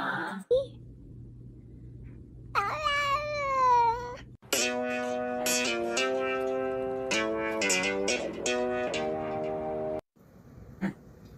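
Several drawn-out cat meows with rising and falling pitch, close and fairly loud, amid background noise and some voice-like sounds.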